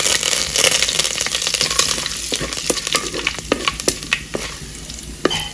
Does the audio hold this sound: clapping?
no